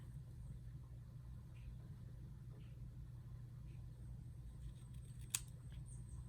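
A few faint scissor snips sound over a low, steady hum, with one sharper click near the end.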